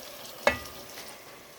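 Soft steady sizzle of meat and onions frying in oil, broken by one sharp clink of a utensil against the pan.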